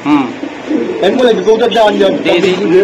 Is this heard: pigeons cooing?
yes